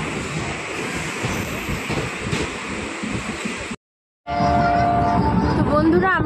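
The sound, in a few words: train departing New Cooch Behar station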